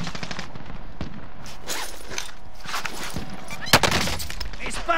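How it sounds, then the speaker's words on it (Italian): Gunfire in Call of Duty: Modern Warfare, with scattered sharp shots and short automatic bursts, one louder crack standing out, amid game background noise and faint voices. "Mi sparano addosso."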